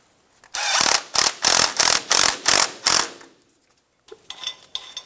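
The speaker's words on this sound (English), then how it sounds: "10mm socket, we're going to tighten the screw down" Ratchet with a 10mm socket tightening a bolt on a brake hose bracket of a 2000-2006 Toyota Tundra, giving seven loud, close clicking bursts in even rhythm, then a short pause and a few softer clicks.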